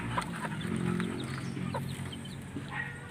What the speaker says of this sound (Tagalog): may papisa pala dito mga kabayan yung sisiw ng manok